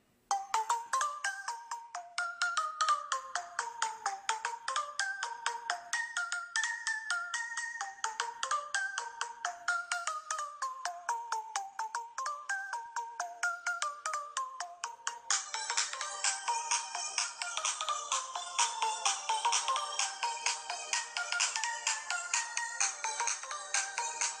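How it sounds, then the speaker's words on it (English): A melodic tune plays through a Samsung Galaxy S3's small, tinny speaker at full volume, with a repeating plucked pattern that thickens into a fuller, brighter arrangement partway through. "I'm going to play a quick song here through the speaker"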